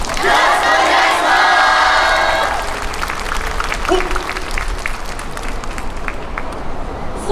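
A festival crowd at a yosakoi dance performance in an open plaza gives a loud burst of shouting and clapping, which then settles into scattered claps and crowd noise.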